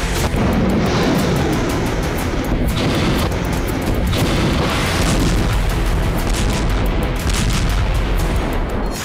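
Continuous heavy booms and blasts of explosions on Russian soil roll over one another with a dense, thunderous rumble throughout, and no voices.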